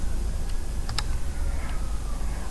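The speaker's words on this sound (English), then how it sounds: "So I'm going to go up here and type okay, I'm not good at typing Arabic" Arabic text being typed on a computer keyboard: a few sparse, sharp key clicks, with a quick pair near the middle, over a steady background hiss.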